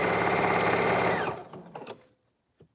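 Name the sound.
sewing machine sewing a dress seam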